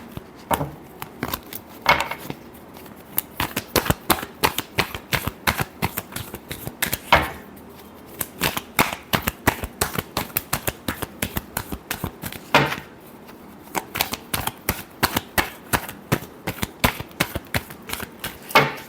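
Tarot cards being shuffled in a rapid run of crisp riffling clicks and flutters for nearly twenty seconds, with a couple of brief pauses, fairly close and alone without talk.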